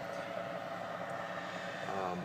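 Small airplane engine in flight, heard from inside the cabin on a trip from South Carolina at about 120 knots: a steady, loud droning hum that holds even throughout.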